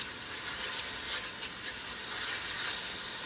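Vegetables sweating in a pot over high heat on a small burner for Italian chicken noodle soup, giving a steady, even sizzle and hiss that holds close and constant throughout with no talking.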